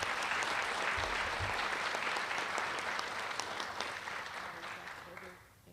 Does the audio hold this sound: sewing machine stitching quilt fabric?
no